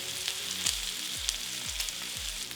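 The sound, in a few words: rack of lamb searing in a hot smoking pan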